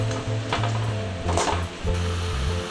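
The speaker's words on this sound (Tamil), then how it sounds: "அந்த சூப்பை மட்டும் இதில் ஊற்றுங்க." Mutton leg soup hits a hot pan and sizzles steadily, with a low humming tone running underneath throughout.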